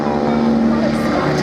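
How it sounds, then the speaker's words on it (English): Vintage aircraft, a Dragonfly twin-engine passenger plane with a Spartan single-engine plane behind it, flying past as a loud steady engine drone with a constant hum and propeller buzz throughout. "twin engine and a single engine running along behind, giving us a view of the sight and sound."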